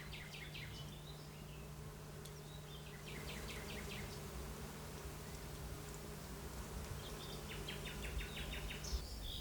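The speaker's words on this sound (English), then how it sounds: "a swarm of bees has built several tiers of wax" A swarm of bees buzzes continuously around a bladder senna shrub, with a steady drone and scattered bird chirps and insect calls in the background.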